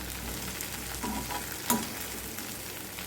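Restaurant-style chicken fry is stirred in a pan with chopped coriander. A faint, steady sizzle of frying runs throughout, with a single sharp click of the spoon midway and no talk.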